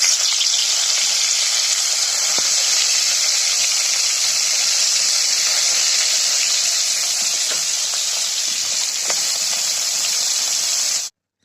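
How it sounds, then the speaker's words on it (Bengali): Fish fry in hot oil in a wok with a loud, even, continuous sizzle that holds steady throughout and then cuts off abruptly. "তেলটা গরম হয়ে গেছে, এখন মাছগুলো ছেড়ে দিব কড়াইতে।"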